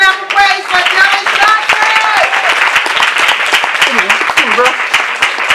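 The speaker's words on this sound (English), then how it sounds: "Let's give our hand clap of praise for Tellas" Loud, dense applause from a crowd fills the clip, steady clapping throughout with voices calling out over it.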